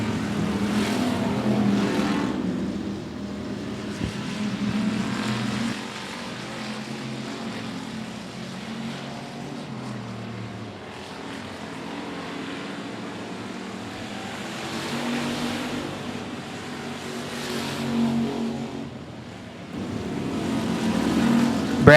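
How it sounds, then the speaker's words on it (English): Factory stock race cars in a heat race on a speedway, a continuous roar of engines swelling and fading as the pack passes, fairly loud and distant-to-near. "we are now cross flags halfway home in our 4th and final factory stock heat race."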